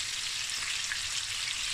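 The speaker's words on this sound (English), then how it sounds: "fry it about 2 minutes on each side" Garlic chili prawns with fresh chopped chilies fry in a pan, producing a constant hissing sizzle that holds at a steady, moderate level with no speech over it.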